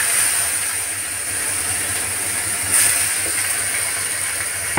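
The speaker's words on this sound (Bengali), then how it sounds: "পেঁয়াজটা ভালো করে ভাজা ভাজা করে নেব" Onions frying in oil with panch phoron and dried red chilies while cooking dahi bhindi, okra in yogurt, give a steady, loud, broadband sizzling hiss that runs throughout with no voices.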